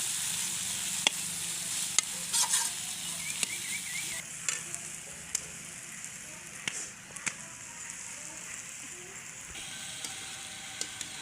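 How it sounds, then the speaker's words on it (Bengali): Chopped banana flower with whole garam masala frying over very low heat in a pan, a soft steady sizzle broken by scattered clicks and scrapes of stirring, fairly quiet and close. "এখনো কিন্তু ভেজে নিচ্ছি আস্তে আস্তে জালে, মানে খুবই কম জালে"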